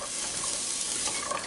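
Onions sweating in a pan for a veggie curry give a steady, close sizzle with soft scraping from a spatula. The sound is continuous and even, with no voices.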